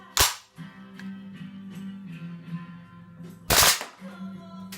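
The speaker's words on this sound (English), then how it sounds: "hold the bolt down and then fire it and see if it'll lock back" A WE XM177 gas blowback airsoft rifle fitted with a real steel spring and buffer fires two sharp, loud cracks a few seconds apart, with a low mechanical hum in between.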